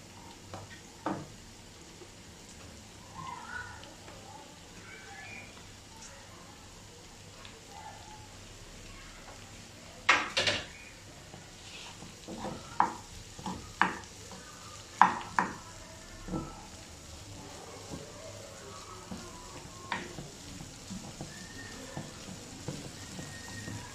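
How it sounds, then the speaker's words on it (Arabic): Diced yellow and red bell peppers and chicken breast sizzle softly in a pan while a utensil stirs them, giving scattered scraping knocks and clatters over a quiet, continuous fry. "هنقلبه بقى كل الحاجات مع بعض تاني"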